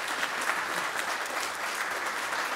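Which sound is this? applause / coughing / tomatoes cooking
applause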